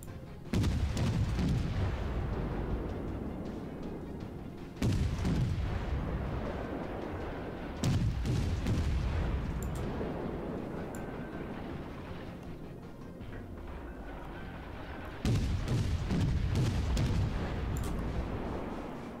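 Heavy naval guns from warships in World of Warships boom loudly in four separate salvos, each a sharp blast that trails off into a long rumbling decay before the next one lands.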